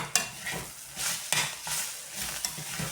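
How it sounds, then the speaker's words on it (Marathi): Grated fresh coconut stirred into a sizzling drumstick leaf stir-fry, a spoon scraping the pan in a steady rhythm of soft strokes over continuous close frying sizzle, with no talking. "ओलं खोबरं टाकून मिक्स करून घेऊया."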